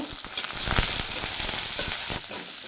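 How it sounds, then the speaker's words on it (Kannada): Cumin seeds and pepper frying in hot oil as a tempering, a steady close sizzle with scattered crackles and pops throughout, no talk. "ಒಂದು ಸ್ಪೂನು ಜೀರಿಗೆ ಸೇರಿಸ್ತೀನಿ ಹಾಗೆ ಒಂದು ಸ್ಪೂನು ಮೆಣಸನ್ನ ಸೇರಿಸಿ ಇದು ಚೆನ್ನಾಗಿ ಫ್ರೈ ಆಗಬೇಕು"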